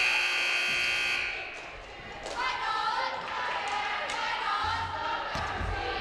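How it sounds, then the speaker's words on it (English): A buzzer at a girls' varsity high school basketball game sounds for the start of the second quarter, a loud sustained electronic tone that cuts off after about a second, followed by gym crowd noise and thumps. "there's the buzzer to signal both teams to come out and begin the second quarter of play"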